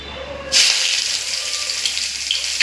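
Oil bursts into a loud, steady sizzle in a pan partway in, hissing on without a break while jute leaves are cooked.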